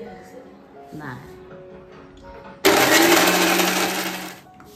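An electric mixer grinder grinds wet coconut masala for a prawn curry, starting abruptly with a loud, steady whine that holds for about two seconds and then cuts off, after quiet kitchen sounds and brief talk.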